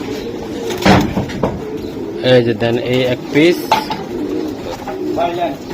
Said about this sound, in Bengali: মাশাআল্লাহ ভাই এই জায়গায় 2 পিস কবুতর আমি দেখাইতাছি